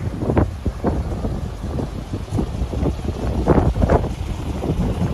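Strong gusts buffet the microphone on a beach in Cartagena, Colombia, a loud rumbling roar that swells and dips in bursts, with no talk over it.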